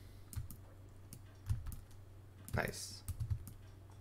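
Computer keyboard typing and mouse clicks during 3D modelling of a case come in short irregular bursts of taps, close and fairly quiet, with a brief spoken word partway through.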